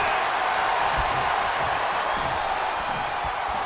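Arena crowd noise in the WWE 2K25 wrestling video game, a dense, loud roar of cheering that runs steadily through the whole moment with no clear breaks and no talk.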